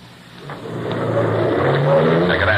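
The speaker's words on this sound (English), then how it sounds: "Maxton's car whipped by." A car whips past at speed on a road at night, its engine swelling from faint to loud in under three seconds with a rising, rushing drone.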